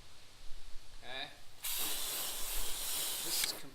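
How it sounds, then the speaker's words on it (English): A spray bottle mists water onto the hood of a 2018 Chevrolet Malibu Premier in Pepper Dust Metallic, a close, steady hiss lasting about two seconds after a moment of quiet speech. "I'm going to spray this a little bit and you can kind of see the difference."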